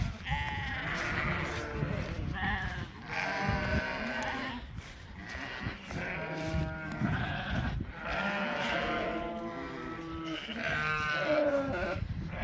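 Weaned lambs and ewes of a shedding sheep flock bleat continuously, many overlapping calls near and far forming a dense, loud chorus.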